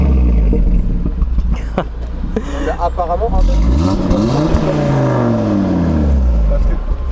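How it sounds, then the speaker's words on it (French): An Audi RS3 tuned by ABT starts up and runs, its engine rising and falling through loud revs with a deep rumbling idle. People talk in French over the engine throughout. "Tu veux pas juste démarrer la voiture?"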